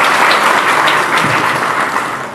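An audience at a community mahapanchayat gathering in Karnal applauds students honored for good exam marks, a dense, steady wash of clapping that stays loud and fills the whole stretch before easing slightly at the end.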